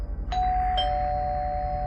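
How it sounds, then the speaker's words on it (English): A doorbell rings two clear electronic chimes, the second tone lower and ringing on, heard close over a low background hum. "I heard the doorbell ringing."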